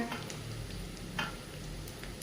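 Onion sautéing in a pan for a Maharashtrian matki usal, a steady close sizzle with a few soft stirring scrapes, and no talking.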